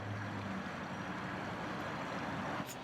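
A Hobie Compass kayak with foot-controlled steering spins in tight circles on calm water, giving a steady close wash of water and hull noise with a faint low hum throughout and a brief splash near the end.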